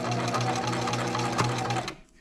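Sewing machine basting a seam on a gown at a long stitch length, a steady rapid mechanical whir of needle strokes running close and even for about two seconds before stopping abruptly.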